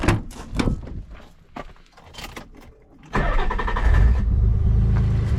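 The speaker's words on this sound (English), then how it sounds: "car is back running." A Nissan 300ZX twin turbo engine cranks with several uneven bursts, pauses, then catches and settles into a loud, steady close-up run.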